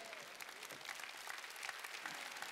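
Church congregation clapping together during a Wednesday worship service, a brief burst of fairly quiet, dense hand claps with a hint of voices underneath.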